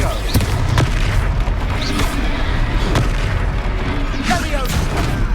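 Confringo fire spell bursting during a Hogwarts Legacy duel, several sharp booming blasts over a loud continuous rumble of battle, with a voice speaking in the mix.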